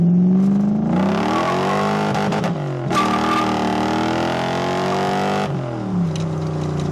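A Toyota farm truck with a swapped 1UZ V8 engine revs loudly up close through a custom exhaust, the deep rumble climbing in pitch, dropping back, then rising again in a long sustained rev.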